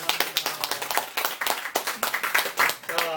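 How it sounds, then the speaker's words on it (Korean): Worshippers in a Korean church service clap together in praise, a series of sharp, distinct hand claps at close range with an uneven rhythm, some voices and other sounds blending between the claps. "우리 하나님께 영광의 박수를 돌립시다"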